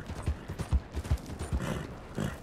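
Rhythmic hoofbeats of a horse in the video game Red Dead Redemption 2 clip-clop at a steady trot, close and distinct, with soft low thuds under each step.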